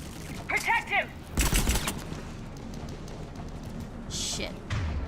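Gunfire in the video game Mass Effect 3, a short burst of loud cracking shots followed by a quieter background din, with voices talking over the combat.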